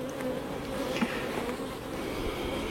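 Bees work around a beehive during a check of the honey supers, a dense, continuous close buzzing hum with no pauses or voices.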